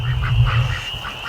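Ducks quack repeatedly in short, evenly spaced calls over a steady low hum, fairly close and clear.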